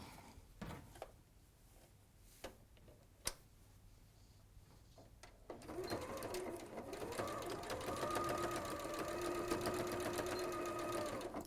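A sewing machine stitching over bag pieces, a few faint clicks and a sharp knock at first, then a steady, fast mechanical whirr of stitching that runs on to the end.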